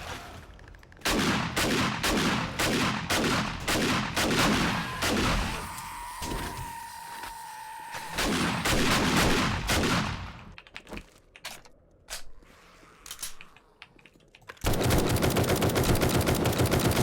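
Rapid gunfire in the zombie video game 7 Days to Die: loud bursts of repeated shots for several seconds, a brief quieter stretch with scattered shots, then a dense, continuous volley at the end.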